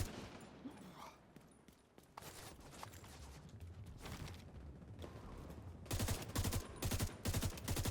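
Bursts of video game gunfire in The Division 2 as enemies are shot at, scattered single cracks giving way to louder rapid automatic volleys near the end, over a busy background of game noise.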